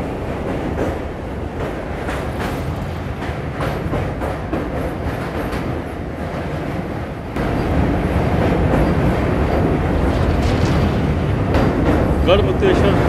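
Double decker train 12584 running from Delhi to Lucknow and crossing an iron bridge over the Ganga, a loud steady rumble and clatter of wheels on track that grows heavier midway, with a voice talking over it.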